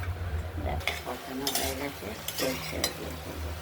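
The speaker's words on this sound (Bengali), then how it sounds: "মাছের মশলা কষানো হয়ে গেছে তেলটাও বেরিয়ে গেছে" Fish masala sizzles in oil in a pan, with a spatula stirring and scraping through it in several distinct strokes over a steady low hiss.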